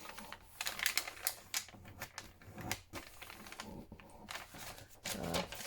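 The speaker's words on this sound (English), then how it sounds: "I'm going to tear it down the middle here." Paper being torn down the middle against a ruler for a junk journal craft, heard as a series of sharp, close rasping rips in uneven bursts with short pauses, no talking.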